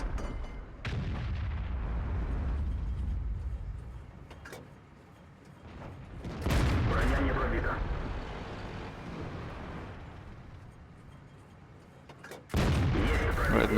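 Tank cannon fire in World of Tanks, with an Object-series tank and an E100 in battle: three heavy booming shots spaced several seconds apart, each followed by a rumbling tail.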